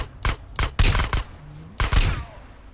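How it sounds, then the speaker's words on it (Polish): Gunfire from an enemy in GTA San Andreas: a rapid series of loud, close bursts of shots in two groups, with a short pause between them and a faint ringing tail. "Ktoś we mnie strzela. jest jakiś koleżka."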